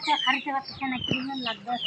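Village chickens cluck and a rooster calls nearby in a rural yard, a busy run of short clucks and squawks with people talking in the background.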